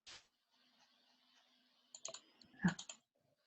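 A computer keyboard clicks quietly as someone types an email address into a web app, with a short burst of a few close keystrokes after a stretch of near silence.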